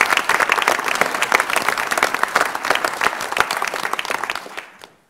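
Audience giving a round of applause for graduates at a university board of regents meeting, dense crisp clapping from many hands, loud and close, fading out at the very end.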